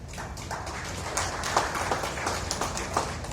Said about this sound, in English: I thank you for the claps